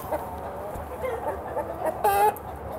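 Hens and roosters in a poultry mating facility cluck and squawk, with a few close, sharp calls rising above a steady crowded barn murmur; no one speaks.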